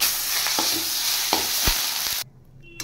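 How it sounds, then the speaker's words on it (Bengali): Mung dal paste frying in a little hot white oil in a wok, with a steady close sizzle and several sharp scraping stir strokes; the sizzle cuts off abruptly near the end. "এবার এই মুগ ডালের পেস্টটা আমি কড়াইয়ে নাড়তে থাকবো।"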